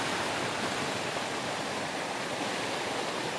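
Water rushes over rocks in a steady, dense hiss of flowing water that stays constant and fairly close, with no voices.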